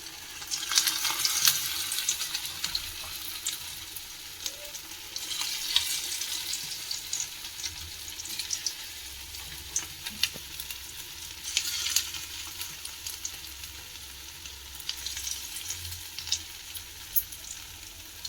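Paneer kebabs frying in hot oil, a steady crackling sizzle throughout with soft bursts of brighter spatter and faint low kitchen rumble beneath, no voices.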